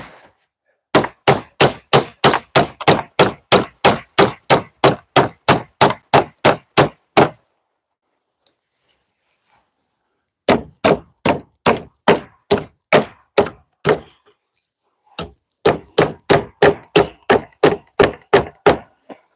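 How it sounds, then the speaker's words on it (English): A hammer strikes a nail into wood in sharp, rapid, evenly spaced metallic blows, three long bursts separated by pauses, loud and close with no talk. "We need to add one more nail over here to make sure it's really secure"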